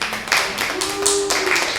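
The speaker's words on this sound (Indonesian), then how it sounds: "Tepuk tangan untuk minasan." A small class of Japanese-language students claps hands in a classroom, a short burst of scattered, uneven claps with a faint voice and a tonal sound running beneath.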